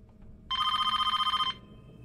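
A telephone bell rings in one continuous burst of about a second, a bright electronic trill standing out loudly against a quiet, low room hum in a tense indoor scene.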